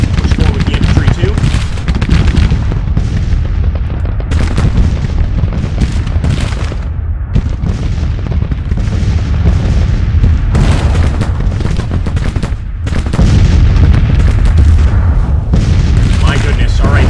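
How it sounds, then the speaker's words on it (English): Massed artillery and rifle fire in Grand Tactician: The Civil War, a loud continuous barrage of booming cannon and crackling musketry rolling without pause, with a voice talking over it. "I've never seen that much artillery fire happening at once"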